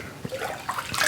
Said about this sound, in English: I'll just put some warm water in there to help melt that and get it out of the jug.